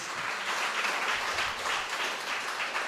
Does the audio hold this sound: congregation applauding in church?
yes